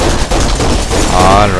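Gunfire in the video game Kane & Lynch: Dead Men, loud, dense automatic shooting in a sustained fusillade with chaotic battle noise throughout, a voice audible in the mix.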